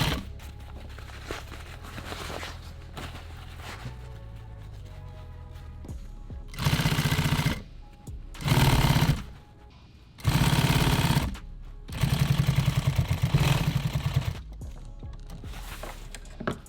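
A sewing machine stitches nylon tactical gear, running in four or five loud rapid mechanical bursts separated by short pauses after a quieter stretch of faint handling noise.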